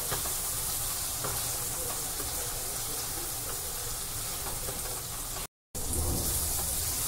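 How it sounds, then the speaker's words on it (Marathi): Tomato sizzles in hot oil in a pan, giving a steady, dense hiss that runs continuously with one abrupt brief dropout, and no voices over it. "टॅमॅटो तेलामध्ये व्यवस्थित परतून घ्यायचा आहे,"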